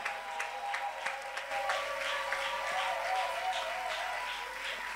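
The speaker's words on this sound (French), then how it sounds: "Pousse une bonne acclamation encore vers ton Dieu." A church congregation applauds and cheers in acclaim, a steady wash of clapping that holds evenly for the whole stretch with a few voices rising through it.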